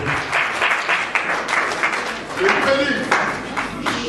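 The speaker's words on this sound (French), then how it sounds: "Linda Cotte, sous vos applaudissements." An awards ceremony crowd in a hotel applauds as an honoree is called up. Dense clapping runs throughout, with brief voices and cheers mixed into the applause.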